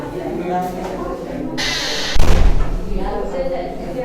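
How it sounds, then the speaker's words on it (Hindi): A door is shut in a classroom during an accounting lesson, giving one dull, heavy thud midway through, set against a noisy room with voices around it. "मैम बीच का डोर क्लोज करो।"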